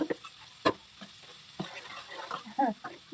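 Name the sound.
spices frying in oil until browned, with turmeric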